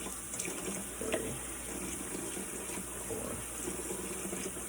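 Tap water runs steadily into a measuring spoon for sugar cookie dough, a continuous close splashing hiss with small irregular spatters and no break.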